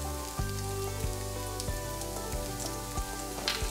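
Vegetable oil crackling and sizzling in a hot pan with tofu scramble, a steady close frying hiss with scattered pops and no talking.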